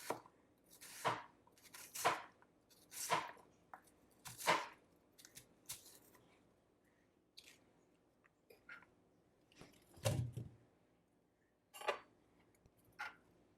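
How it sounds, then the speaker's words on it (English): A knife roughly chops a quarter of an onion on a board. The crisp, distinct strikes come in loose bursts, a few quick cuts at a time, separated by short pauses, with one heavier thud partway through. "I would say this is about a quarter of an onion. So I'm going to do is just roughly chop it like this."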